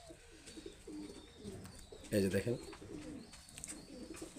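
Breeding pigeons kept in a home loft coo in soft, low rolling calls, with one louder burst of cooing up close, while someone speaks briefly nearby.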